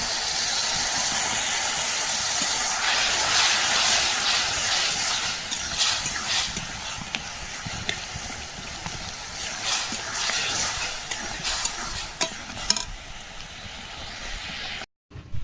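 Water poured into a hot cooking pan of spiced peas and tomato, a loud continuous hiss and sizzle that slowly eases over about fifteen seconds.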